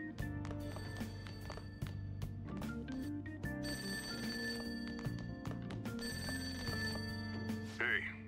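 A telephone rings repeatedly in the video game Persona 5 Royal, a bright electronic trill that keeps recurring over steady background music.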